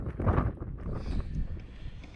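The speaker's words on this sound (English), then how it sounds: "you get up here and it's windy" Strong wind buffets the microphone on an exposed hilltop during a storm, a low rumbling roar that gusts and eases over about two seconds, with no speech.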